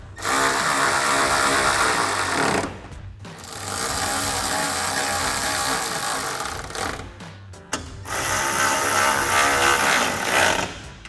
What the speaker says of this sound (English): then we'll tighten those down with our 10mm socket